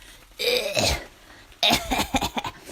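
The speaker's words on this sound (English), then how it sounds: "My delivery man, he walked past and I can hear him like coughing really loudly." A man coughs loudly and close by, two harsh bursts of coughing separated by a brief pause.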